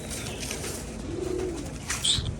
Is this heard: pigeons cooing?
yes